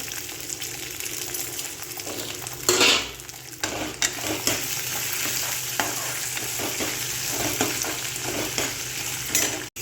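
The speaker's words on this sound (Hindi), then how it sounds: "तो आटा को भी थोड़ा भूनती हूँ मैं इसको।" Atta (wheat flour) roasting in a hot pan for a festive dish, with a steady sizzle and repeated scraping strokes of a spoon stirring against the metal, plus a few louder clanks, close and continuous.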